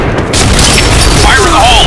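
A loud grenade explosion from the shooter game Point Blank lands as a single heavy boom, followed by game effects and a voice shouting.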